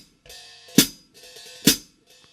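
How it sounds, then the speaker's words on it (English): Over-tilted hi-hat cymbals, the top cymbal hitting the bottom one, grind and scrape against each other, each press ending in a sharp clashing hit, twice in a row. "the top cymbal starts hitting the bottom cymbal."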